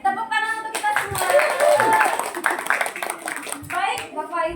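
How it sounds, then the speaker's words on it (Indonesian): A group of teachers breaks into applause at a training session, the clapping swelling through the middle under overlapping voices and chatter before fading back to talk. "Oke, tepuk tangan untuk kita semua"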